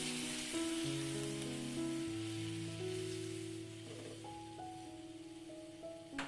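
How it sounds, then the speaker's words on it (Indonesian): Chicken simmers in spiced water in a pot, giving a steady, soft bubbling hiss that continues throughout beneath background music. "Kalau sudah mendidih seperti ini"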